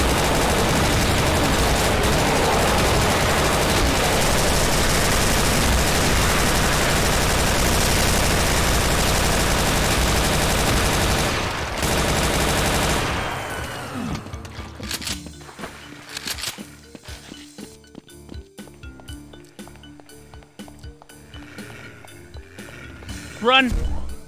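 Chaingun enemies firing in the video game Doom 2, a dense continuous roar of rapid gunfire and game noise lasting about twelve seconds, then dropping to scattered shots, clinks and mechanical sounds.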